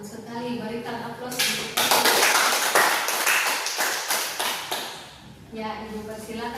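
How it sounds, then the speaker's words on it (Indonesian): A classroom audience breaks into applause in a group guidance practicum session: loud, dense clapping swells for about four seconds between stretches of a voice talking. "Berikan aplaus."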